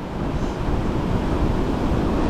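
Ocean surf washing steadily over a beach where razor clams are being dug, a continuous broadband rush of water mixed with wind noise on the microphone, loud and close throughout.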